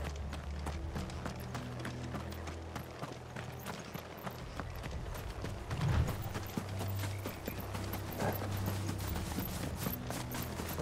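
Steady clip-clop of horse hooves trotting in Final Fantasy XVI throughout, with a continuous low rumble underneath and a brief heavier thud midway.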